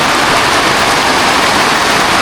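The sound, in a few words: heavy rain pouring on plants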